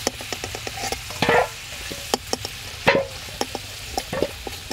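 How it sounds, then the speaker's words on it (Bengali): Potatoes frying in hot oil in a pan for a meat curry, with steady sizzling broken by repeated sharp scrapes and clinks of a spatula stirring and lifting them. "আলুগুলো ভাজা হয়ে গেছে"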